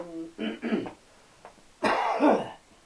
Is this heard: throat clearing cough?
yes